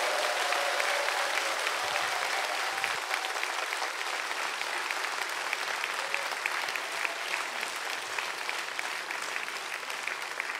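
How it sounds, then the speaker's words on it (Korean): A church congregation at a Korean Baptist New Year's Eve service claps in loud, sustained applause that fills the room evenly for about ten seconds, with no speech over it. "다시 한번 우리 목회자들을 위해서 격려의 박수 부탁드립니다."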